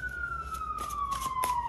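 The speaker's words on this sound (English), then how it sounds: "Y'all hear them sirens?" A single emergency vehicle siren wails outside, its steady tone sliding slowly downward as it passes at moderate distance, alone with no talk.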